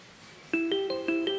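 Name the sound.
phone ringing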